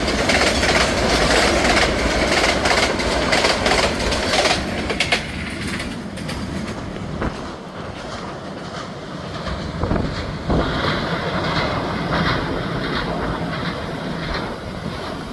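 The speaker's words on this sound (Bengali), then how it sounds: "আন্তনগর তিস্তা এক্সপ্রেস ঝড়ের বেগে চলে গেল" The Tista Express intercity train rushes past at speed on a bridge over the Jhinai, a loud, close roar with rattling wheels that eases slightly midway and carries on steadily, with wind buffeting the microphone.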